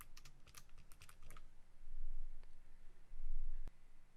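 Quiet typing on a computer keyboard, a quick cluster of light key clicks at the start followed by a few scattered taps and a soft thump, close and alone with no voices.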